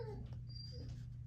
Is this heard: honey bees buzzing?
no